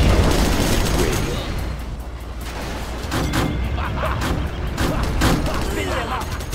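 A Gatling cannon in the real-time strategy game Command & Conquer Generals Zero Hour fires continuous, dense rapid bursts that merge into a roaring barrage, loud throughout, with game unit voices underneath.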